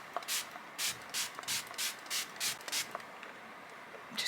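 Makeup setting spray misted from a pump bottle in a series of about eight short, regular hissing bursts, close and fairly loud, with no talking.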